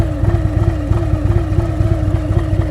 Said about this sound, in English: Now this is this bike idling